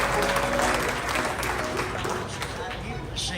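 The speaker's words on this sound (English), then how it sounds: "Give him a round of applause" Audience applause at an outdoor bluegrass festival in West Virginia, steady and fairly dense, continuing at moderate level with voices mixed through the crowd.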